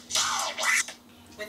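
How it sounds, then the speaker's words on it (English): Quick back-and-forth baby scratches on a record in eighth notes, two smooth swoops followed by a shorter trailing scratch, with no voices around them. "Our record hand moves forwards and backwards to perform continuous babies on the eighth notes"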